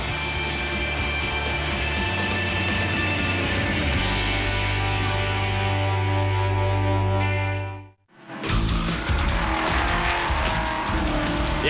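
V8 ute race cars competing in the 2013 V8 Ute Series at Townsville: loud, high-revving engines roar close by, one car sweeps past and fades to a brief hush, then more engines blare in straight after.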